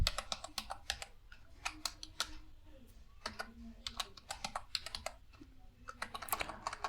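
Code is typed on a computer keyboard in quick, irregular bursts of close, crisp key clicks, with someone speaking softly in between.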